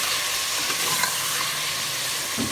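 A chicken korma mixture with chunky onion pieces is stirred in a pot, giving a soft, steady sizzle with faint scraping, close by and unbroken, with a low clunk near the end.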